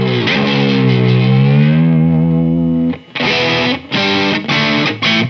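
Electric offset-body guitar, an Antiquity AQJZ, played through a Boss Katana Mark II amp miked with a Shure SM57, with a long sustained distorted chord bending in pitch, then choppy rhythmic stabs, loud and close with no talk.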